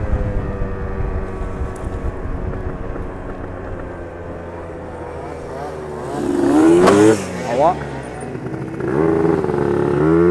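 A Yamaha Aerox 70cc scooter at full throttle, its high buzzing two-stroke engine droning steadily and then climbing sharply in pitch as it revs, loud and close, with wind noise.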